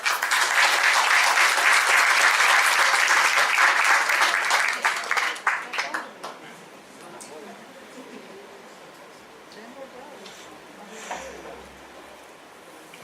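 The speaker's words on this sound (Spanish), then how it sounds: "Lo recibimos con un fuerte aplauso." An audience at a history lecture on the founding of Guayaquil gives loud applause to welcome a speaker. The clapping fades after about six seconds, leaving quiet room sounds and faint voices.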